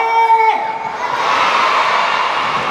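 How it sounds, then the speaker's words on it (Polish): A crowd of children at a concert performance shouting together in a loud, sustained cheer that rises after a brief tonal note fades, the massed voices filling the space for about two seconds. "I krzyczymy. Ole!"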